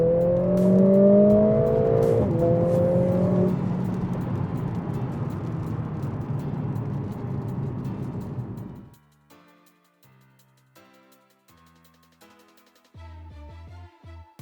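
A W206 Mercedes-AMG C43 with the AMG M139 four-cylinder engine revs loudly for about nine seconds, its pitch climbing in sweeping pulls, before it cuts out and music takes over.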